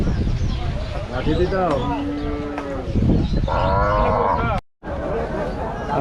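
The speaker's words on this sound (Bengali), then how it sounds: "দেখতে পাচ্ছেন ভালো ভালো কিছু গরু আছে" Cattle at the Rajshahi cattle market, several loud, drawn-out moos from nearby animals over a busy background of crowd noise and people talking.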